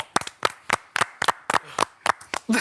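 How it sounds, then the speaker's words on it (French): At an MMA event, a small group gives sparse, distinct hand claps in an irregular rhythm, close and sharp with quiet gaps between them, and brief murmurs toward the end. "applaudissements."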